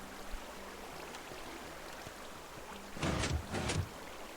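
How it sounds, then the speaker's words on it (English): Running water in Minecraft, a low steady wash through the whole stretch, with a brighter surge of splashing near the end. "I can still hear the water running"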